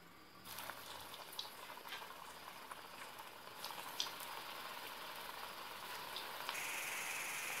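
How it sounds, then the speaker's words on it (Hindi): Bottle gourd kofta balls frying in hot oil in a kadhai: a soft, steady hiss with scattered light crackles and pops, fairly faint and heard alone. "कढ़ाई में हम तेल ले चुके हैं, गरम हो चुका है। अब हम बॉल्स को डाल के फ्राई करते हैं।"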